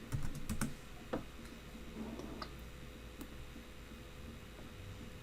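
C++ code being typed on a computer keyboard: scattered, soft key clicks, a brisk cluster at the start, then sparse single taps over a quiet room hum, with no talking.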